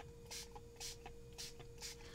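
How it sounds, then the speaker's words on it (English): Distress Oxide Spray in Twisted Citron misted from a pump bottle in four short, evenly spaced hissing bursts, faint and close, with no talking. "I'm going to go ahead and lay down some Distress Oxide Spray in Twisted Citron first."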